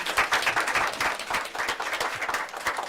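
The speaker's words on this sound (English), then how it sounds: "Let's give her a round of applause." Audience at a school board meeting claps for a student being honored, dense continuous applause that fills the room for a few seconds.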